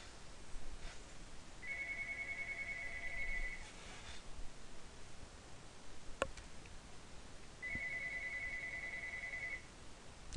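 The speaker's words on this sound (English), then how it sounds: "The phone has to ring right now?" A telephone ringing in two separate bursts of electronic trilling, each about two seconds long and spaced several seconds apart, fairly faint in a quiet room with no talking.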